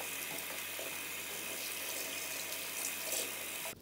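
Tap water running steadily into a sink while a doll's hair is rinsed, a constant close hiss and splash that cuts off abruptly at the end.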